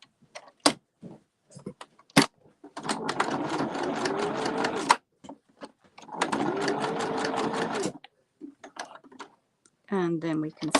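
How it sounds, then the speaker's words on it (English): A sewing machine stitching fabric in the round, sounding as two separate bursts of fast mechanical whirring, with sparse clicks and taps between and around them and a short voice near the end. "And then we can start sewing in the round just after taking those loose threads away."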